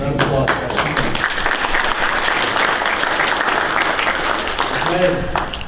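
Audience applause after a speaker is thanked at a regional workforce development meeting, a steady wash of clapping that fills the whole stretch, with voices talking faintly over it near the start and end.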